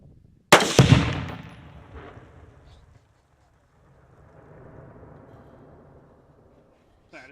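A rifle shot detonates Tannerite outdoors in the mountains: one sharp, loud blast, then a fading rumble and a second, fainter rolling echo a few seconds later.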